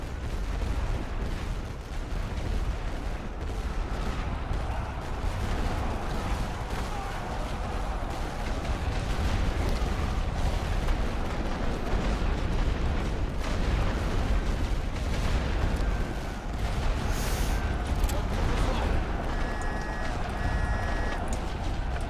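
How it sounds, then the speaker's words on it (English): Artillery fire in the strategy video game The Great War: Western Front: a steady, dense barrage of booms and rumbling battle din that fills the whole stretch without letup. "Oh, that was a good artillery."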